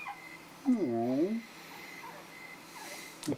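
A dog whimpers once in a video game, a single rising-and-falling whine lasting under a second, heard with faint background tones.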